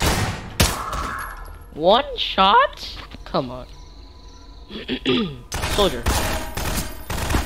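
Gunfire from Combine soldiers in the Garry's Mod video game, with sharp bursts of shots at the start and again near the end, while people talk over the action in the middle.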